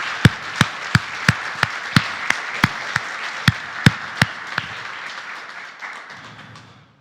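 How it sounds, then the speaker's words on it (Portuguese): Church congregation clapping at a Sunday service, a dozen or so sharp, evenly spaced claps, fairly close and clear, slowing and thinning out before fading away. "E pode aplaudir o Senhor"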